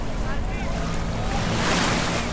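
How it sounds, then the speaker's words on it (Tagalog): Waves wash onto a clear-water beach in Laiya, Batangas as a steady broadband surf roar, with wind buffeting the microphone throughout. "Yan yung dagat, oh."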